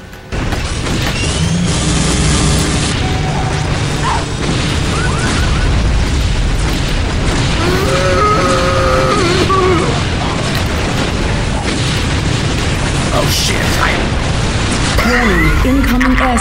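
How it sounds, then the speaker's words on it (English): Airstrike explosions boom continuously in Unreal Tournament 2004, a loud, dense barrage of blasts and crashes, with game effects and voices layered over the rumble. "Incoming airstrike."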